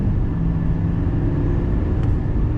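A Chevrolet Silverado 3500HD dually with a Duramax diesel pulls under acceleration, a deep steady rumble heard from inside the cab, loud and continuous with no talking.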